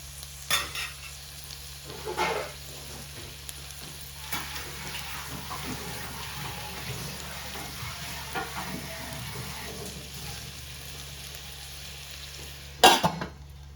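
Chicken kuzhambu ingredients sautéing in a pan over a low flame, a steady soft sizzle with a few louder stirring scrapes near the start and a sharp clatter near the end, no talking.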